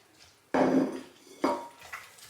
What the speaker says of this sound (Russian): Все перемешиваю.